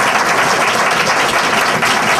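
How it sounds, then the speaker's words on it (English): Loud, dense applause from a large crowd, steady clapping filling the whole stretch without letup. "Would you give them a round of applause for all of the work they can do?"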